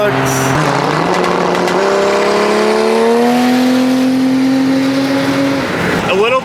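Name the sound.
car engine accelerating at full throttle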